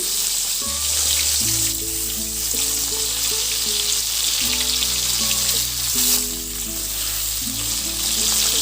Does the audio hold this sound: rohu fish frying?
yes